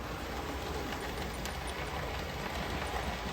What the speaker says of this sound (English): That's a heavy train too, although it's only 4 carriages long